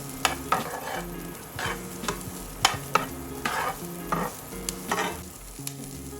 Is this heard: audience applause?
no